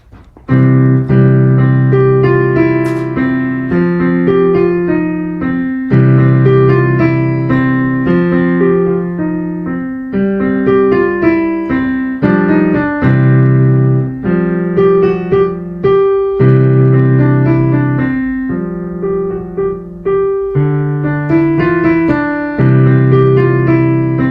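A piano piece played continuously with steady chords and a moving melody, close and full, with no voices.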